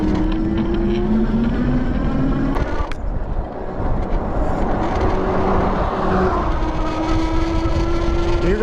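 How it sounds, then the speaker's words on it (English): Wallke H9 2025 all-wheel-drive e-bike with dual hub motors whining steadily while being ridden, with strong wind and road rumble throughout and a sharp knock near the middle. "You're going to notice these motors are louder than the previous version as well."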